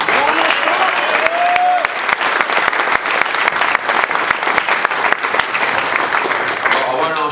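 A packed room at a boxing final press conference breaks into loud, sustained applause and cheering, dense clapping filling the whole stretch with a brief whistle-like call near the start.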